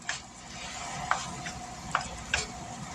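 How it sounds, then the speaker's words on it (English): Ground meat browning in a pan for lasagna sauce, a soft steady sizzle under four sharp spatula taps and clinks spaced about a second apart. "we're working on getting our meats all browned up here"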